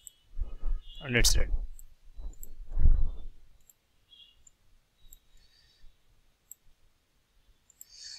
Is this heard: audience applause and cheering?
no